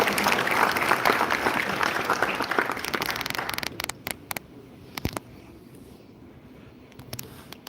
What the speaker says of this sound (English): May we have a huge round of applause for sir, please.